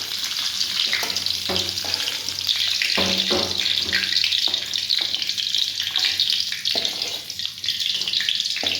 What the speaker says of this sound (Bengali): কিশমিশ কাজুটা একটু ব্রাউন করে ভেজে নেব।